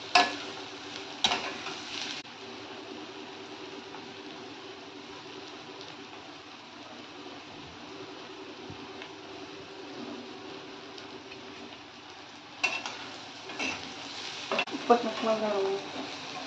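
Onion and green chilli frying in a pan as turmeric goes in, a low steady sizzle with sharper clatters of a spoon against the pan near the start and end.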